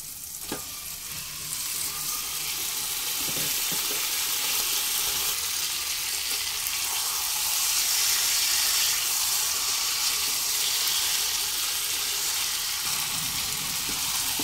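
Marinated chicken sizzles loudly in spiced masala in a kadai pan over a medium flame, a steady close hiss of frying with occasional stirring scrapes and no talking.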